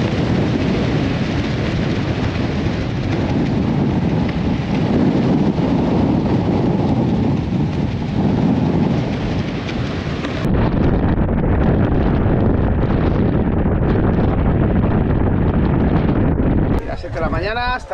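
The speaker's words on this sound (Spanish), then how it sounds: "El viento está pegando de 30 a 30 y tantos nudos, con algunos picos de 40 nudos" Strong gale-force wind, 30 to 40 knots with gusts, roaring steadily around the Ocean Defender ship at sea in rain; loud broadband rush and buffeting across the whole stretch, slightly thinner after a hatch opens partway through.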